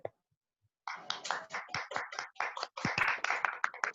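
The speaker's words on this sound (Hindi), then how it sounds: "जी सभी तालियां बजाएं।" Mothers and others at an online dance class session clap together after a short pause, a lively burst of close, distinct hand claps that stays moderately loud to the end.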